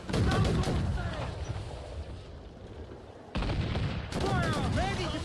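Booming naval cannon fire in an Assassin's Creed IV sea battle, heavy repeated blasts and rumbling volleys layered with shouting crew voices, loud and continuous with a brief lull midway.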